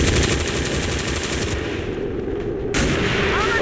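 Dense automatic gunfire from the video game XCOM, a loud, rapid rattle of shots that drops off briefly before a renewed burst of firing near the end.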